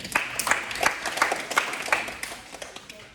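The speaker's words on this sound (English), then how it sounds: "Give her a round of applause, team." A small audience at a live goal-setting session applauds with quick, evenly paced claps that rise and then taper off over a few seconds.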